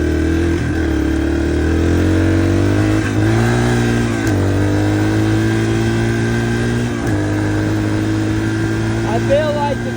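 Dirt bike engine riding down a gravel road after rain, a steady mid-pitched drone with rising and falling revs and several gear-shift dips, loud and close throughout, with a rider talking over it.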